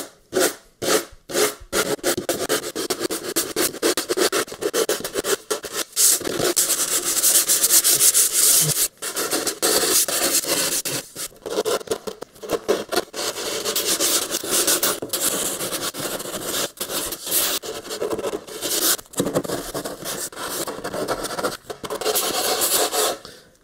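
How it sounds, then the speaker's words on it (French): Wood is sanded by hand for a van build, rounding an edge, with loud close rasping strokes in steady back-and-forth rhythm and brief pauses between passes. "Voilà, le reste, je vais finir en ponçant."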